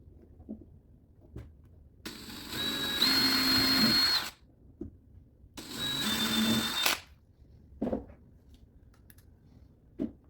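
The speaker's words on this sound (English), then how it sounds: "I'm going to put the drill bit towards that side of the hole when I drill" A power drill whirs in two bursts of about two seconds each while drilling holes to fit legs to an IKEA Kallax unit, near and loud, with light handling knocks in between.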